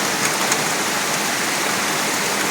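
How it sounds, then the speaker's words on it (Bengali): Heavy downpour on a Kolkata street during a storm, a dense, loud, unbroken roar of rain with no talk. "মুষলধারে বৃষ্টি কীভাবে পড়ছে।"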